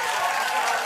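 Studio audience applause on a late-night talk show, a brief, dense burst of clapping from the crowd, steady and fairly loud throughout.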